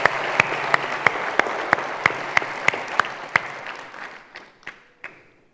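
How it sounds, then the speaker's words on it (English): At a university graduation ceremony, a few people clap in a slow, steady, fairly loud rhythm, joined by a soft wash of scattered applause that fades, leaving the last isolated claps ringing out alone. "Another round of applause for the verse choir."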